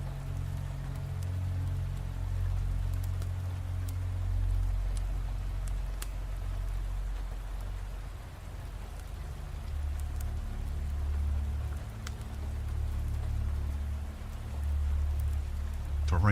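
Steady rain falls at night, a dense even hiss with occasional sharper drop ticks over a low rumbling undertone, continuous and unchanging throughout.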